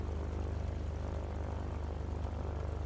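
A steady, droning propeller engine of a non-turbo Lancair in a flight simulator, running an engine run-up at a constant roar with a fast pulsing throb and no voices, continuous throughout.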